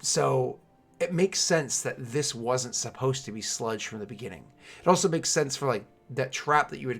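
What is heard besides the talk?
None of the usual background noises is heard.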